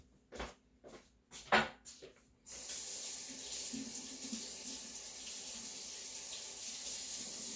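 A tap turns on after a few knocks and clunks, then runs in a steady, close gush to wet a snake plant cutting, continuing unbroken to the end.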